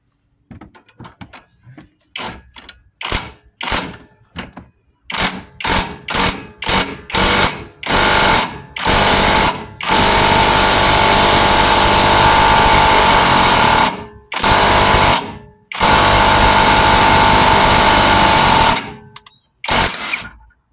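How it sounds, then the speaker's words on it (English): Impact wrench working a sway bar end link flange bolt on a car, loud sustained buzzing bursts of varying length, a long run of several seconds with short pauses between, preceded by quick brief blips. "I'm gonna see if I can't just fit the impact in there."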